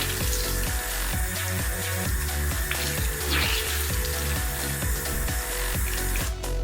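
Warm water runs steadily from a tap over a makeup brush, a continuous close splashing hiss with small shifts as the brush is rinsed, no talking.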